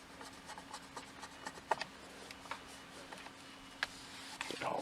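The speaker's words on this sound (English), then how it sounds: "I'm just going to start by wiping down this area, getting the emblem pretty good" Cloth rubbing and wiping over the interior trim, emblem and buttons of a Honda Accord, close and quiet, with soft scuffing strokes and occasional light clicks against a steady low hum.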